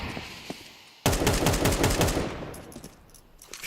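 Rapid bursts of gunfire from the competitive shooter Counter-Strike during a BLAST.tv Austin Major 2025 match, a dense loud volley that starts abruptly after a quiet second and then tapers off, with no talk over it.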